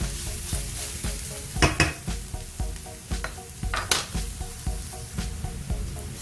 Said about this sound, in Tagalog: Antayin lang natin mag golden brown yung bawang.